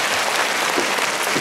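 Concert audience applauding at a National Day performance in Hong Kong, a dense, steady wash of clapping filling the whole moment without pause.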